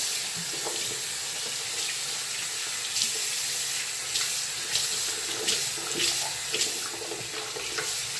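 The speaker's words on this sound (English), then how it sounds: "And then I rinse my face." A bathroom tap runs steadily into a sink while someone rinses their face after removing makeup, with splashing bursts over the constant flow and no talking.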